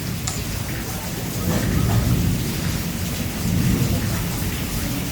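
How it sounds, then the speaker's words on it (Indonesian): Thunder rumbles through a heavy rainstorm, two deep rolling swells over constant rain hiss on surfaces, with a faint voice in the background. "Petirnya gede juga ya."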